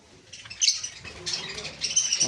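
Cockatiels, among them black and lutino birds, give short bright chirps and tweets in quick bursts, with faint wing flutters and background noise around them.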